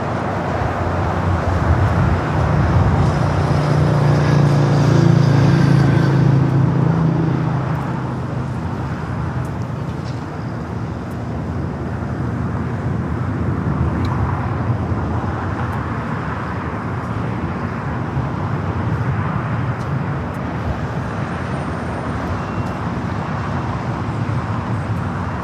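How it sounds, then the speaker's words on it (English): An airliner rolls down runway 24 left at LAX, a broad roaring jet rumble that swells loudest early on, then settles into a steady, slightly distant drone for the rest of the clip. "the Tom is now rolling down at 24 left."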